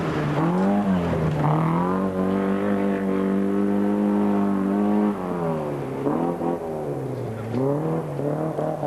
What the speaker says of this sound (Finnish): Kemin UA:ta edustava Markku Viitanen tulee Opel Asconalla